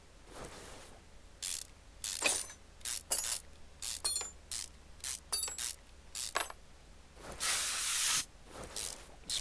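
Repeated short hissing spray bursts and clicky mechanical ratchet sounds from a car part being worked on in a car mechanic video game, in uneven bursts with a longer hiss near the end, no talk.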